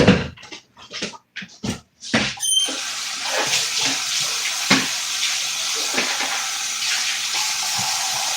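A kitchen tap runs while celery is rinsed beneath it, starting with a few short bursts of spray and then settling into a steady close stream of splashing water.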